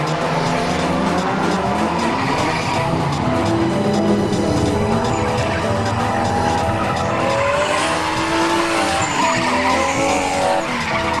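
Street Commodores drifting at a live demo, tyres squealing continuously over roaring engines as cars chase each other closely, loud and sustained throughout.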